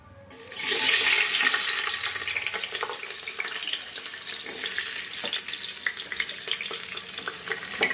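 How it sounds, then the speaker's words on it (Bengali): Chopped onion hits hot oil in a pressure cooker with a loud hissing sizzle that swells quickly, then settles into a steady close crackle and spatter with no voices. "পেঁয়াজ কুচি দিয়ে দেবো"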